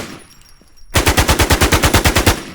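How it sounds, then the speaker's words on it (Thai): Automatic gunfire from a weapon in the video game Infestation: after a quiet lead-in, a loud, rapid burst of about fourteen evenly spaced shots runs steadily to the end, with no talking. "ยิงจะเป็นแบบนี้ครับ"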